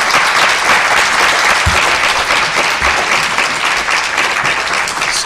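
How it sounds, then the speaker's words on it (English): An audience at an alumni post-election panel discussion gives the panelists a steady round of applause, loud and dense clapping filling the room without pause. "Let's give them another round of applause."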